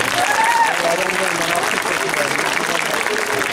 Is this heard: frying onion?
no